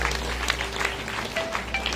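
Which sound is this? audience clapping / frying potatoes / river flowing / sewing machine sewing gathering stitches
audience clapping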